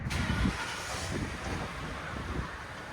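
A Lincoln Town Car Signature Series with a 4.6L V8 and stock exhaust gives a steady, quiet low rumble that holds even throughout, with a little wind noise and no talk.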